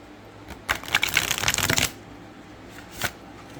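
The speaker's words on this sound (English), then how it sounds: "let's look at how this one shuffles," A Halloween Waite tarot deck is shuffled by hand, with a quick riffling burst of cards flicking together for about a second, followed by a brief soft tap of the cards settling.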